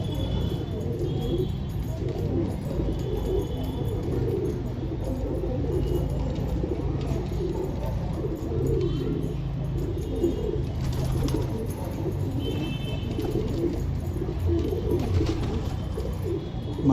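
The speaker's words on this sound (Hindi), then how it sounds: "ये अपना एक मद्रासी कबूतर है" A Madrasi pigeon coos, low soft repeated coos under a constant outdoor background with faint bird chirps, with no talking, fairly close and steady throughout.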